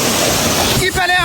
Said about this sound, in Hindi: चेक करे ज़रा, आवाज़ सुनने ज़रा पानी की।